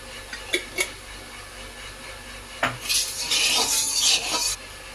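A wok set down on a stove for a Bhola fish curry, with a couple of metallic clinks and a clunk, then a bright hiss as more oil, already used for frying fish, is poured in.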